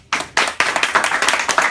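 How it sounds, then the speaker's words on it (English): Small audience at a graduation for certified security officers starting to clap, a few scattered first claps quickly building into close, brisk applause from a modest group. "So how about a round of applause for that"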